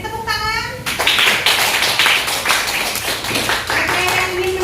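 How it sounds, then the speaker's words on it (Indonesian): Students in a classroom applauding, a burst of many hands clapping right after a short spoken phrase, loud and close, with some voices mixed in. "Beri tepuk tangan"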